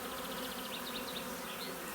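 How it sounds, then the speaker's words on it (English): Honeybees buzzing in clumps around a hive, a dense, close, continuous drone with individual bees whining in and out above the steady hum, no voices present. "When you get clumps of bees, it's just impossible to find Queenie in them."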